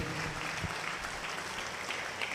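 Church congregation clapping loudly together in a dense, continuous wash of applause that holds steady throughout, with no gaps or voices standing out.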